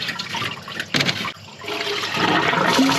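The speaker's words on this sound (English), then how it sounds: "Got the lower and upper radiator hoses off, draining." Coolant pouring out of the disconnected upper and lower radiator hoses of a 2004 Chevrolet Silverado 5.3, a loud, close, steady gush of liquid that briefly falters and then picks up again.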